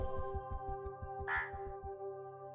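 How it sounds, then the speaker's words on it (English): A cartoonish crow caws in the puzzle video game Monument Valley, a short rapid burst of calls over rhythmic pulsing game music, faint overall. "Hey, crow."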